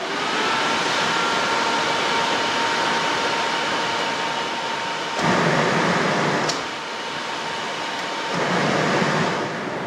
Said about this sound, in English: Let's make a bench testing for the second fan on the van.